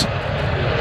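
An Emirates airliner on final approach at Stansted Airport gives a steady, broad engine roar, loud and continuous through the short moment with no talk over it.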